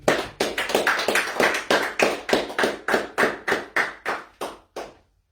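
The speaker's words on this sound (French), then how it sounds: "Est-ce qu'on peut applaudir pour Jésus?" A burst of hand clapping from a church congregation, rhythmic and fairly close, with claps falling into a regular beat before tapering off and stopping.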